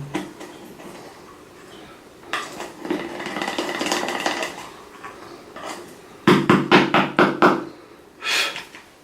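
A loose pot of translucent face powder being opened: a series of plastic clicks, taps and knocks, with a dense cluster of rapid sharp snaps toward the end, close and fairly loud, with no talking.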